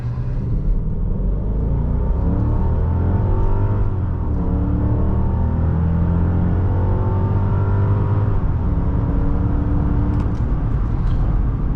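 A 2001 Mercedes-Benz S55 AMG accelerating hard from a stop to 60 mph, its engine roar rising steadily through the gears with brief dips at shifts, loud and continuous inside the cabin with no talking.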